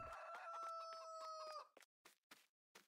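Chickens in the Farming Simulator 19 video game, a rooster-like crow with a sustained tonal cry followed by a few short separate clucks, quiet and alone.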